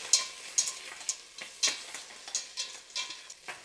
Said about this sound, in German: gleich erstmal das Curry mit anbraten, noch ein bisschen